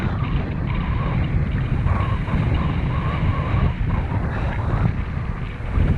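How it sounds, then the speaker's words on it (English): A hydrofoil under a Gong Flint 5'10" wing-foil board gurgles through open water in a steady rushing wash, heavily mixed with loud wind buffeting on the microphone. "You don't really want the foil breaching. You probably hear it just gurgling away."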